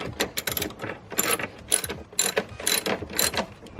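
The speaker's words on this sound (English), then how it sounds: "I'm going to slide this in right behind and over this screw, and then tighten it back down" Repeated small ratcheting and metallic clicks from tightening a screw over a washer on a dashcam ground wire inside a Saab 9-3, close up, in quick irregular bursts with no talking.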